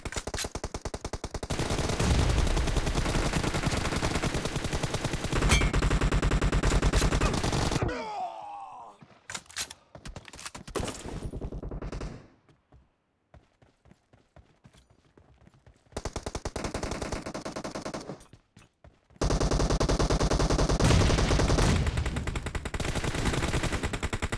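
Automatic gunfire in the mobile shooter BGMI, long sustained bursts of rapid shots, loud and close, broken by a quieter stretch of scattered single shots before heavy firing resumes.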